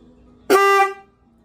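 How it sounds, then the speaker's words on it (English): One short, bright honk from a newly installed dual-track motorcycle horn, loud and close, lasting about half a second and standing alone against a quiet background. "It's really not a bad horn."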